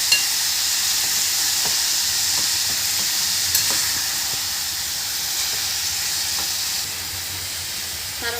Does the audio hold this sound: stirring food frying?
yes